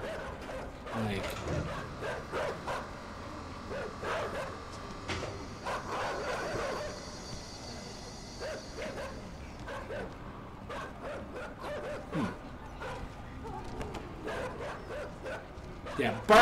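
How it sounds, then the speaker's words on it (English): Dogs in the video game INSIDE bark in repeated sharp yaps scattered through the passage, mixed with mechanical creaks and game sounds, while a player talks over parts of it. "yeah, bark away, dogs."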